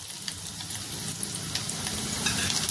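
Ginger and garlic hit hot oil in a pan for homemade chicken chilli, giving a close, steady, continuous sizzle with fine crackles throughout and no voices.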